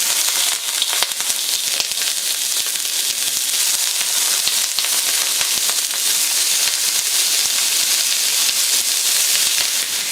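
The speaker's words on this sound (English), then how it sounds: "I'm going to put the meat in right now. Give it a quick braise." Lamb meat sears in a preheated wok, a dense loud continuous sizzle and crackle of hot oil filling the whole stretch with no talk.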